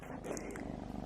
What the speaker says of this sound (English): please excuse the purring cat sitting on my lap